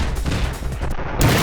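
A police officer character's weapons fire in the game Dead Estate: a quick, loud volley of overlapping shots across a short burst, with a sharper crack near the end and no voices.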